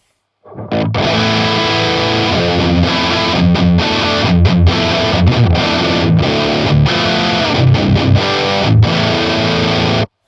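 Loud electric guitar through a Boss MT-2w distortion pedal, chords strummed in bursts with brief gaps, thick and saturated, playing alone.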